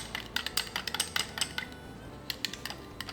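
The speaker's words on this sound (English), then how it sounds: "Mix this up really good. Anytime you're dealing with powders, you have to thoroughly mix it." Bait powders being thoroughly mixed in a container give rapid, irregular scraping and clinking taps, fairly close and moderately loud, with no talking.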